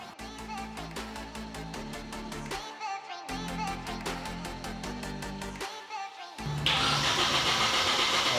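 A Nissan 240SX abandoned for years cranks and catches, its engine noise running steadily with a few short breaks before rising into a louder, rougher run near the end, close and loud with no talking.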